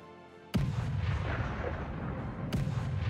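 Artillery shelling in a Stalingrad war strategy game sounds as two heavy booming blasts about two seconds apart, each followed by a long rumbling roll of distant explosions, loud and with no talk.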